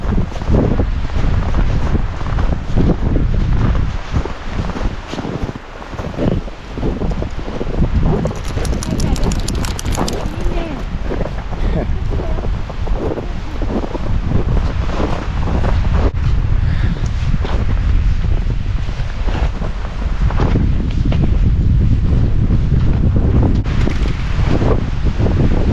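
Strong wind roaring across a snowy mountainside, loud and gusty with buffeting against the microphone, mixed with crunching footsteps in snow and rustling from nearby dogs.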